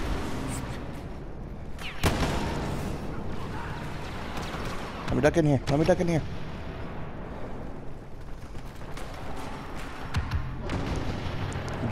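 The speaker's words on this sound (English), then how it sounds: "I'm just hearing nothing but explosions going on" Booming explosions and gunfire from a Star Wars Battlefront match, with heavy blasts and rumbling bursts spread across the scene, a sharp hit early on and a dense burst near the middle, under a player's speech.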